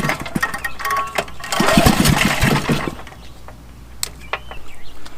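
A small generator engine being pull-started with a few rope tugs, sputtering and briefly catching with a loud burst of engine noise before dying back down, outdoors with faint birdsong.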